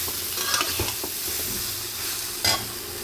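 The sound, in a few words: mixing raw mango pieces with salt and turmeric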